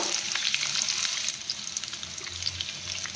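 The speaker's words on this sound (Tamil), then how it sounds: "அதில் எண்ணெய் ஊற்றிக்கிட்டு வெங்காயம் எண்ணெயில் வதக்கிக்கிறோம்" Onions frying in oil for Malai chicken, a continuous close sizzle with fine crackling and soft stirring throughout.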